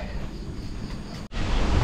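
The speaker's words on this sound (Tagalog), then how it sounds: "Grabe, ang lakas na ng hangin ngayon." Loud, broad roar of strong wind pressing on the microphone, briefly dropping out for an instant before surging back even stronger.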